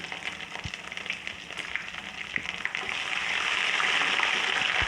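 Crushed garlic-ginger paste hitting frying onions in a pan for chana biryani: a dense crackling sizzle that swells louder and steadier about halfway through, continuous and close.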